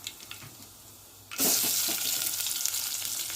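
Sliced onion drops into hot oil with cumin and mustard seeds, bursting into a loud, steady sizzle after a quiet moment, close and continuous.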